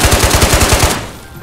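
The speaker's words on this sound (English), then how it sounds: "I was trying to shoot that gas can, it didn't blow up." A short, loud burst of AK Alpha automatic fire in Call of Duty DMZ on the Island of Tabor, about eight rapid, evenly spaced shots close up, cutting off abruptly into quiet.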